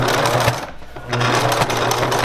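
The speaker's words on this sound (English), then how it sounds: "then you're going to sew the other side right along that seam, that same seam" Close, loud sewing machine stitching ribbon into a face mask seam, its motor whirring in a fast, even rattle with a brief dip in the middle, then continuing.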